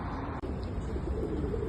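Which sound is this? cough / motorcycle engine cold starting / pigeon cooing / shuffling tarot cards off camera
pigeon cooing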